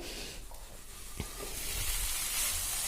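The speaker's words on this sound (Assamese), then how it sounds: "বিলাহীখিনিৰ সৈতে 10-15 মিনিটমান সময় এনেকৈ ভাজিম" Tomatoes and potatoes fry together on a slow flame, a steady soft sizzle that rises slightly in strength, with a brief clatter from stirring near the middle.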